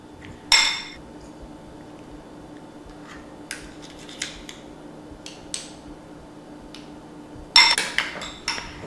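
Spoons scooping herbed filling into stuffed Anaheim peppers, with a few sharp metallic clinks of cutlery against a dish near the start and end and lighter scrapes between, close and moderately loud.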